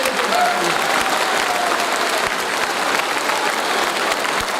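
A large audience claps loudly and continuously at a business testimony event for Forever Living Products. The applause is a dense, steady roar with occasional sharper individual claps and faint voices underneath.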